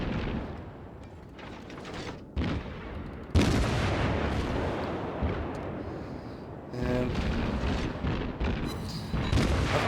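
Warship guns fire in World of Warships, an IJN Tier I Hashidate battle: several heavy booms and blasts in separate bursts, each with a long rumbling tail, loud and close, with no voices.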